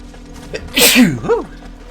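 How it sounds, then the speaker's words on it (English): One big, loud sneeze with a drawn-in breath in the video game Final Fantasy XVI, followed by a wavering vocal groan, close up against a low steady background hum. "Another big sneeze."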